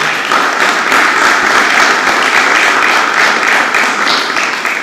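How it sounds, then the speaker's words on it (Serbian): Applause from an audience at a civic speech in Pirot, dense sustained clapping that runs steady and fairly loud for the whole stretch, with no voice over it. "tako da je aplauz malo preuranjen"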